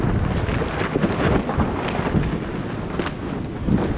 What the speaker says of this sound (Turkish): Rüzgar fazla alıyor. Bugün de aşırı bir fırtına var bu bölgede.